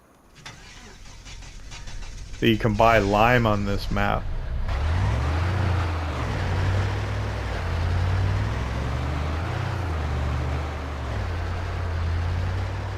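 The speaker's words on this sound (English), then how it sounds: "let me go get my tractor and come back with that" A tractor engine in Farming Simulator 25 starts up and settles into a steady low drone as the vehicle drives off, with someone speaking briefly just before it starts.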